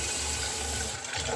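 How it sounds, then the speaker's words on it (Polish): Water pours steadily into a cooking pot, filling it before rice is boiled; a continuous, close, fairly loud splashing flow with no talking. "można nalać wodę"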